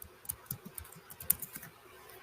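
Soft, quick keystrokes on a computer keyboard tap out an uneven run of clicks at close range, faint and with no voice.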